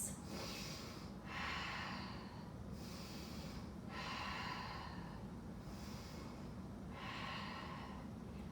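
Deep breaths during a yoga flow, drawn in and released in a steady rhythm: about four airy, nasal breath sounds spaced a couple of seconds apart, close-miked over a faint background hum.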